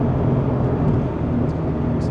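A Toyota GT86 engine drones steadily and loudly from inside the car, a continuous low hum with subtle shifts in pitch as it moves through gear changes.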